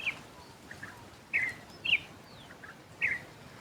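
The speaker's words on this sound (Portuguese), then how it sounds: "muitos pássaros cantando." Birds chirp in short bright bursts over a quiet rural farm, several distinct calls spaced a second or so apart against a soft background hush, no talking.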